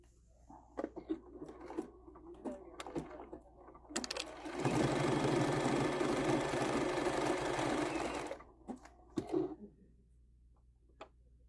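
A sewing machine runs in one steady burst of about four seconds, stitching a quilt-as-you-go table runner at close range, with scattered handling clicks and rustles before and after.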